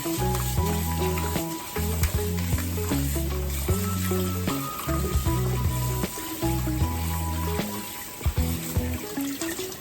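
Curry chicken sizzling and frying in a pan, with steady crackling and occasional stirring clatter, while background music plays throughout.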